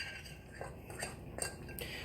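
A spoon stirs banana muffin batter in a bowl. It makes faint, quiet clinks and scrapes against the bowl, with a few brighter taps spaced irregularly over the soft mixing sounds.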